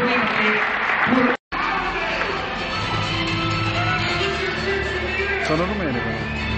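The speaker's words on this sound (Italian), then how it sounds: "per l'applauso Vittorio e Demetri" Audience applause for a breakdance group at a street dance freestyle event in Bologna, Italy, loud and sustained over music, with a brief silent gap and voices mixed in.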